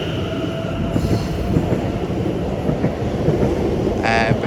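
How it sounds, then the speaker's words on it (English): A Greater Anglia train rumbles out of Chelmsford station, a steady low rolling roar of wheels and carriages close by, with a couple of brief high squeals from the wheels along the way. "Now departing is the 16:26 Greater Anglia service to London Liverpool Street from Braintree"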